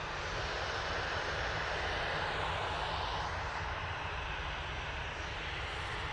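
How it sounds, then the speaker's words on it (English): A Ryanair Boeing 737-800 at Manchester Airport, a steady broad jet engine roar, faint and distant, continuing without a break. "Ryanair coming on, here's the 737-800."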